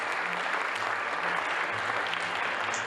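Audience at the close of a Nutcracker ballet performance claps in a dense, steady wash of applause, even and continuous with no break.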